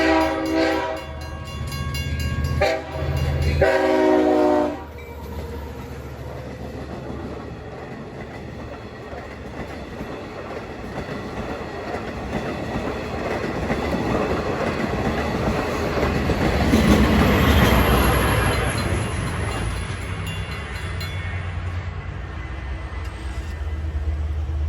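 Long Island Rail Road train 2740, bound from New York, nears the New Hyde Park Road crossing at rush hour. Its horn blasts loudly for several seconds, then it rumbles steadily with rail clatter, and a bell-like tone rings toward the end.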